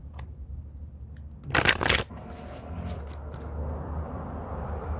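An oversized tarot deck being shuffled by hand, one brief loud riffle of cards up close in the middle, surrounded by quiet room tone and faint handling rustles.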